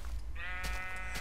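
Minecraft sheep giving a single short nasal bleat, close and clear over a low background rumble.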